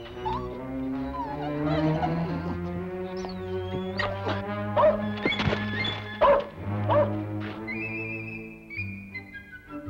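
A dog barks and yowls in a run of howling, bark-like calls against a quiet indoor background.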